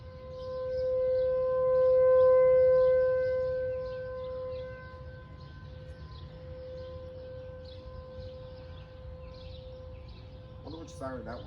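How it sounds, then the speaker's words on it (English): A tornado warning civil defense siren wails steadily from a few blocks away, loud and tonal, rising and then falling slightly over the seconds; a brief voice or chirp breaks in near the end. "that siren up close now is more louder to hear."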